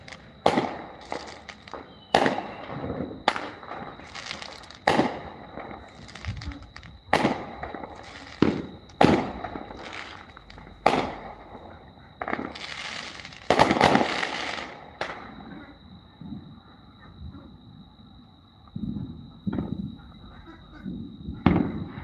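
Repeated sharp pops and bangs of Fourth of July fireworks, some distant and muffled, crackling in irregular bursts with a steady high tone in the background.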